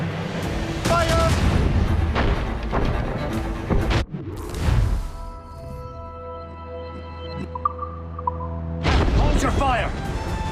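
Ship cannons fire in the Assassin's Creed Rogue naval battle: heavy booming volleys roll out in the first four seconds, a lower rumbling lull follows, and another blast comes near the end, with shouted commands among the explosions.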